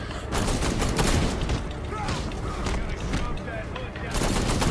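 Dense video game gunfire in Batman: Arkham Knight, rapid bursts and shots rattling almost continuously with loud booms, while a player talks over the action.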